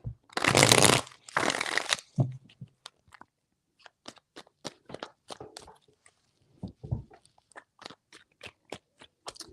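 Tarot cards are shuffled by hand, two loud riffling bursts at first, then a run of soft, close snaps and taps as the deck is handled and squared.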